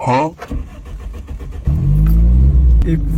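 A car engine cranks and catches after a burst of speech, then settles into a loud, steady, close revving drone with a brief dip near the end, and a voice speaks over it.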